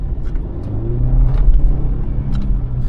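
A BMW 2 Series with the M Package sits with its engine running, a steady low rumble that swells slightly at moments, heard alone with no talking.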